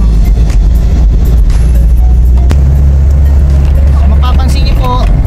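Heavy road traffic heard from inside a car stuck in a long jam: a loud, constant low rumble of engines and road noise, with scattered knocks and faint voices over it.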